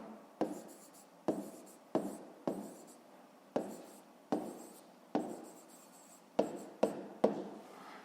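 Chalk or pen strokes writing an answer on a board or paper, about a dozen sharp scratching strokes in an uneven rhythm, close and fairly quiet, with no talking.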